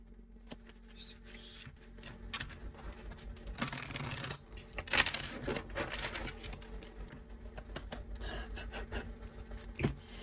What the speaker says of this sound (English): I'm going to do some shuffling on camera today